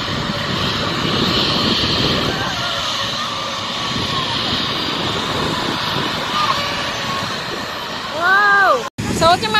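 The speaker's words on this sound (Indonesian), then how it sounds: "Wow, mau kemana ini pesawatnya? Mau parkir apa terbang ya?" An airplane taxis to its parking stand at an airport, giving a steady, loud roar of jet engines throughout, with a voice and other talk over it near the end.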